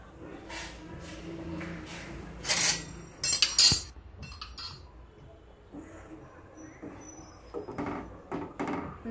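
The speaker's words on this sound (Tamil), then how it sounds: "இப்போ சிம்மில் வச்சுருங்க. சிம்மில் வச்சுட்டு நல்லா கிண்டிகிட்டே இருங்க." Milk simmering in a pan for homemade paalkova milk cake, stirred and scraped with metal utensils: scattered close clinks and scrapes, with a few louder clatters, over a low steady background.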